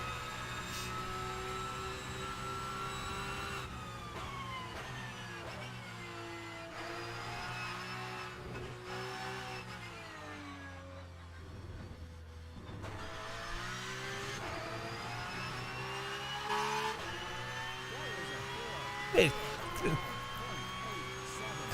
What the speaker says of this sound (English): Car sounds nice, especially the limiter sound.